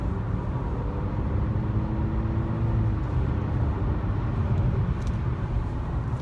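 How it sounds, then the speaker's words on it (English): A 2018 Honda Accord Sport with the 1.5 engine cruising on an open road, its steady low engine hum and road rumble continuous and even throughout, with no talking. "Hopefully you can hear how the engine purrs"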